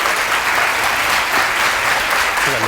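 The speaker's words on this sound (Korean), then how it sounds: "우리 두 분 큰 박수로 맞이해 주셨으면 좋겠습니다" A crowd applauds steadily, a dense wash of clapping filling the space at a loud, even level throughout.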